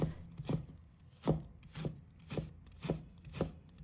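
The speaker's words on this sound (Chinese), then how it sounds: "再准备1块生姜，用刀切成厚度均匀的薄片，把切好的生姜片切成丝" A knife cuts fresh ginger into thin strips on a cutting board, six evenly spaced, crisp chops close up, with quiet pauses between strokes.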